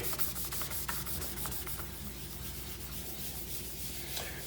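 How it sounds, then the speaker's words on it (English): Abrasive scrubbing of a medium-grit Rust Eraser against a knife-sharpening stone, a steady close rasping rub with repeated short strokes throughout, no voices. "I'm using the Rust Eraser medium grit right now, so I can kind of get everything off of there"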